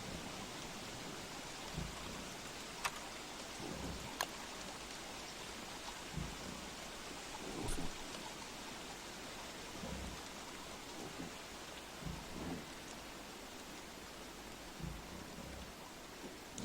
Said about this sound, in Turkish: Gece gece de yağmur yağıyor.